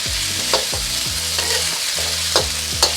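Beef frying in a pan over medium heat: a loud, steady sizzle with repeated scraping strokes of a spatula, close by and with no talking.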